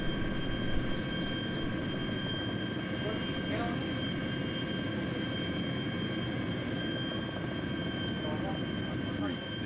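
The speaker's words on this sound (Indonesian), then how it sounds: "Helikopter." A helicopter in the Arma 2 military video game holds a steady, dense rotor and engine drone throughout, loud and continuous with no clear approach or departure.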